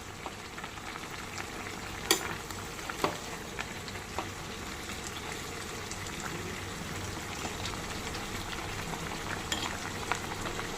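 Mutton keema biryani rice cooking in a pot, a continuous soft bubbling sizzle with a few sharp scrapes and clicks of a spoon stirring, close and fairly quiet.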